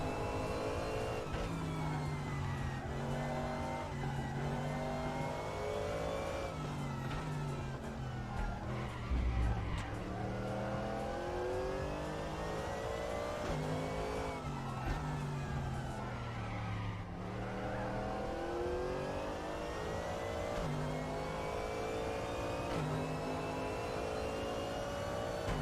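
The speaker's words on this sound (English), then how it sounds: "Car's just sliding." A race car in the RaceRoom sim racing game slides and skids with little grip, engine note rising and falling through long revving sweeps with tyre scrub, loud and continuous, no talk over it.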